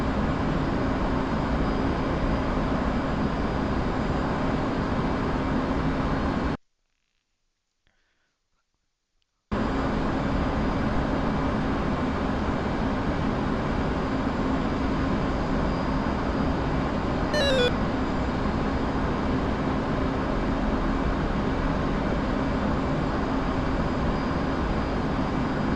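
Jet engine roar from an aircraft taking off in the DCS flight simulator, a loud, steady broadband rumble that drops out completely for a few seconds, then resumes at the same level, with no voices.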